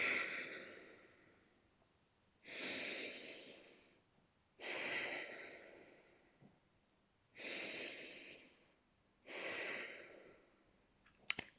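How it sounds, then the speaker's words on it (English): Slow breaths in and out through the nose sound close and soft, with four long airy exhalations spaced evenly between quieter inhalations and nothing else behind them. "it was simply an in through the nose and out through the nose"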